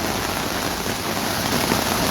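Steady rain falls near a bus stand, a dense, loud, continuous patter of drops on surfaces with no talk heard.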